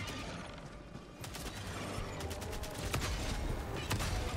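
A teammate fires on enemies in the video game Helldivers 2, with a quiet scatter of distant shots and mechanical clatter rattling over a dull background rumble.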